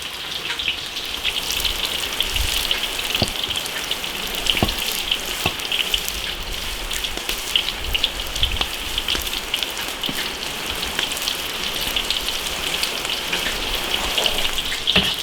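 Potatoes frying in oil in an iron wok, a steady dense sizzle and crackle with scattered sharper pops, close and continuous without talk.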